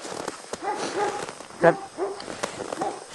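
A dog tied up near set traps gives a few short barks at moderate distance, one louder than the rest, mixed in with a person's speech.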